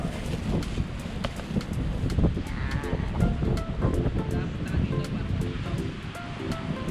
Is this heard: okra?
no